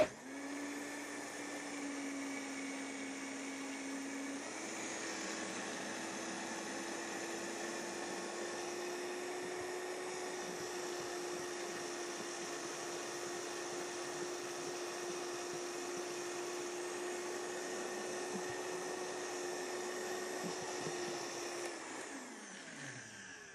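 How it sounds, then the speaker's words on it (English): A kitchen blender whips cream with a continuous high whirring drone, steady and close, its motor pitch rising slightly a few seconds in before running evenly and then stopping. "and then we're going to blend it one more time."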